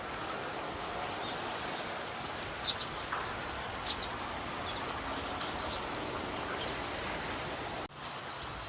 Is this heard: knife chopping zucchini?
no